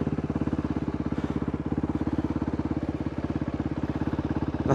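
A Kove 450 Rally motorcycle climbs a hill, its single engine chugging in a loud, close, rapid rhythmic thump that holds steady throughout.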